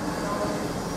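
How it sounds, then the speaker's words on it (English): An East Midlands Railway Class 158 diesel train rumbles steadily close by as it arrives at Ely station, a broad continuous mechanical noise with a low hum throughout. "We're on East Midlands Railway Class 158, now arriving to Platform 3."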